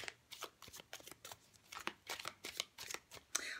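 Hanson Roberts Tarot cards being shuffled by hand, a quick series of soft riffling bursts and papery flicks close up, irregular in rhythm and fairly quiet.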